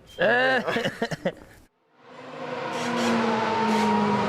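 Lewis Hamilton's Formula 1 car pulling out of the garage at the 2012 Chinese Grand Prix, a rising engine drone that builds steadily and holds loud, following a burst of speech that cuts off just before.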